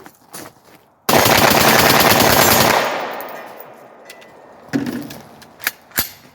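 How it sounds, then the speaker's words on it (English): Celebratory burst of automatic gunfire from a rifle fired with a binary trigger, a loud rapid string of shots that ends abruptly, then echoes fade into scattered distant pops outdoors. "let's do a little celebration shoot off here"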